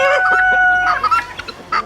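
Roosters and hens in a large mixed flock, a loud close rooster crow followed by short clucks and squawks from the birds around it.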